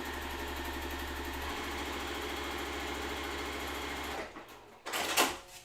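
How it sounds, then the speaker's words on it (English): A sewing machine stitches diagonally across quilt block pieces, giving a steady, close mechanical whir for about four seconds before slowing and stopping with a few clunks. "sewing across the diagonal"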